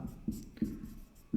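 Pen scratching out handwritten notes, a series of short scribbling strokes at an uneven pace, close and faint, with no talking.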